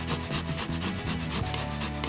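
Thin cactus pieces are grated by hand, giving a continuous, close, rough rasping scrape that keeps an even, rhythmic back-and-forth texture throughout with no talking.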